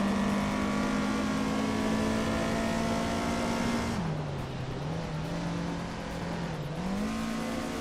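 A 1983 Porsche 911 SC engine drones under race load in a video game on the twisty Croft Club track, a steady mid-level tone that dips in pitch as the car slows into a corner and then climbs again.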